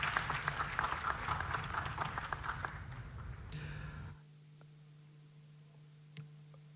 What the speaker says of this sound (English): Shall we do another big round of applause for him?